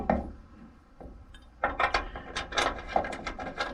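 A ratchet wrench snugging a bolt on an LED pod ditch light bracket under a truck hood, giving a few slow clicks followed by a rapid burst of close, sharp ratcheting strokes.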